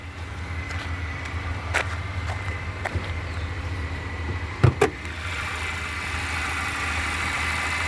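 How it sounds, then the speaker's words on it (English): A 2014 Chevy Impala's 2.5 liter Ecotec four-cylinder idles steadily with the hood open, a low, even hum with a few faint clicks and taps riding on top. "Maybe then you can hear the engine run."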